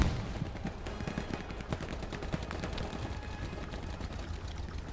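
Rapid gunfire from a Hell Let Loose battle in the Hurtgen Forest, with dense bursts of rifle and machine-gun shots crackling steadily for five seconds at moderate distance, and no speech over it.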